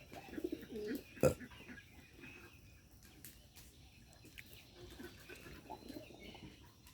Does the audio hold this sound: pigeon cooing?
yes